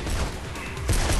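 Gunfire in the video game Mirror's Edge: a loud, dense burst of rapid shots rattles on without a break, swelling louder near the end.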